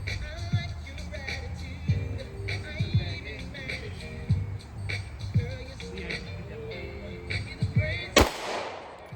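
Sharp pistol shots from a SIG 365X handgun fired one at a time at a range, about eight loud reports spaced roughly a second apart, with a final louder, closer blast near the end and quiet handling noise between shots.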